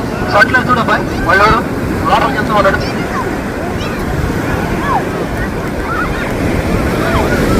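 Ocean surf rolls steadily at Kothakoduru beach, a broad, loud wash of breaking waves with wind buffeting the microphone, while voices of beachgoers carry briefly near the start.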